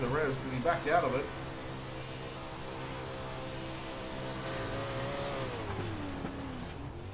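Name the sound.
360 sprint car engine revving, onboard camera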